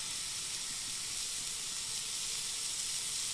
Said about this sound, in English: We're simply just going to pick up a ball of mince. We're going to put it on. Hear that sizzle.